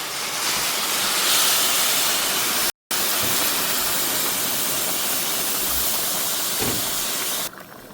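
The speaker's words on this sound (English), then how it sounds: "Add in our hot water." Hot water poured into a pan of frying rice for party veggie fried rice sets off a loud, steady steaming hiss that roars on for several seconds, broken by one brief cutout.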